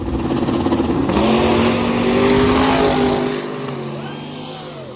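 A milk truck drag racing car launches down the strip, its engine roaring loud and close, rising in pitch through the gears before fading as it pulls away.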